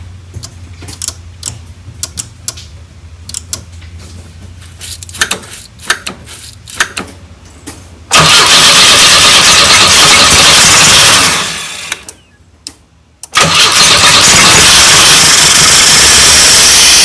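A 1984 Pontiac Fiero that has sat for 30 years is cranked over, first with faint ticking and clicking, then a loud broadband roar of the engine turning and catching, cutting out briefly before surging again.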